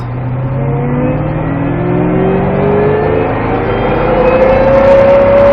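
A Ford Mustang Shelby GT500 accelerates hard on a race circuit, its engine roaring loudly from inside the car with a continuous rising pitch through the gear, dominant with no speech.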